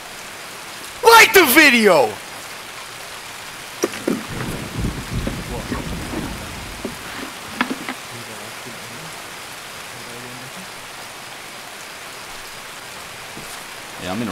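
Steady rain falls throughout a match of the video game Escape From Tarkov, a constant hiss broken by a short burst of voice near the start and scattered clatter and talk over the wash.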